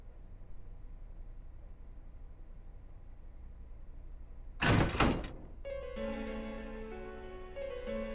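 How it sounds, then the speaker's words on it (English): A door opening in the fighting game Persona 4 Arena, a single loud half-second thunk and clatter rising out of quiet hiss, followed by soft, sustained tonal game music. "I returned to the announcement room and opened the door."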